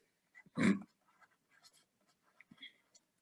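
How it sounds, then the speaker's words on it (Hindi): Chalk or marker writing on a board during a physics lecture, heard as quiet, scattered scratches and taps across a few seconds, with one louder knock near the start. "एक सेकेंड यहाँ लिखता हूँ"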